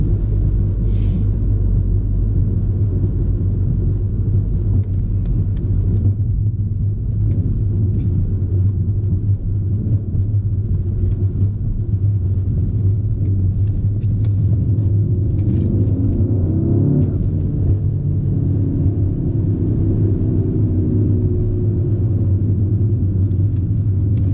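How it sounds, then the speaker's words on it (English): A Volkswagen Golf R engine with a catless downpipe and Stage 2 tune, in race mode, drones and rumbles continuously from inside the cabin, a low steady exhaust growl with slight rises in pitch as it accelerates. "Resonator and that exhaust, sometimes you do get some pretty loud pops and bangs."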